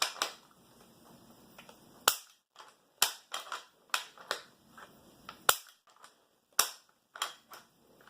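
A bolt-action rifle chambered in 7.7 Jap is cycled repeatedly, producing sharp metallic clacks and scrapes in irregular bursts, close and crisp with quiet gaps between and no talk.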